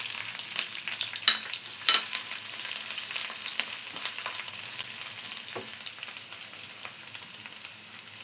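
Garlic and sliced onion sauté in oil in a pan with a steady, close sizzle, broken by a few scraping stirs and clinks of a spoon, without any voices.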